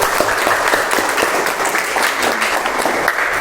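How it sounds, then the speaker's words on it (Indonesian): Loud, dense applause from a group of people, steady clapping filling the whole moment with no one speaking. "Minta tolong tepuk tangannya untuk Mas Nizar."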